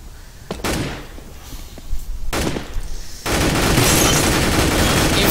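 Rapid automatic gunfire in Counter-Strike: Global Offensive, loud and close, with short bursts early on that give way to a dense, sustained volley of shots near the end.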